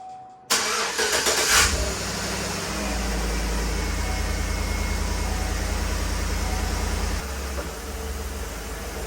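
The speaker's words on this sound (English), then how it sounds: "now we're gonna go ahead and crank it up, let it run for a bit" A high-mileage Chevrolet Tahoe engine cranks briefly, catches and settles into a steady, loud idle, close by and with no talking.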